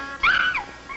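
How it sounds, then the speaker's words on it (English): A dog gives a single short whimpering yelp, close and fairly loud, rising and then falling in pitch. "At your feet is our dog, Flame."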